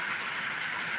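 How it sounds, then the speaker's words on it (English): Heavy rain pours down steadily, heard from a porch in Pennsylvania, a dense even hiss that stays loud and unbroken with no voices. "It's pouring down rain here in PA."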